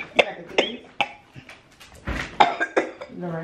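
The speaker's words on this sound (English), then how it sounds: "I be coughing and getting choked out of nowhere." Several sharp, close coughs in quick succession with a choking, throat-clearing quality, some brief vocal sounds mixed in.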